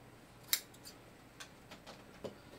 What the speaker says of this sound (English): Let me just cut off the extra.